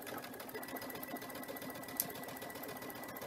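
A sewing machine with a standard presser foot stitches a quarter-inch patchwork seam, its motor whirring in a steady, fast, continuous rhythm close to the microphone, alone with no talk.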